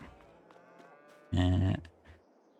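A single loud cow moo rises briefly in a farming video game, alone over faint background game sounds.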